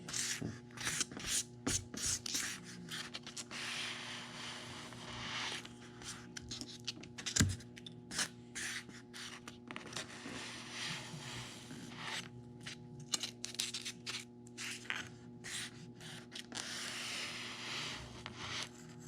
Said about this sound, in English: So let's cut a few pieces and see what that's like.